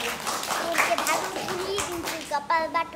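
Children clap their hands in quick, uneven bursts close by, mixed with excited young voices chanting and talking over the claps throughout.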